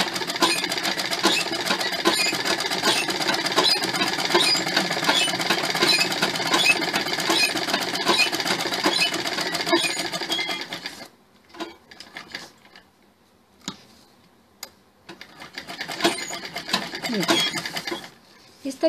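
Sewing machine stitching the collar of a sherwani, running in a steady fast rattle for about ten seconds, then falling to brief softer bursts and a final renewed run of stitching.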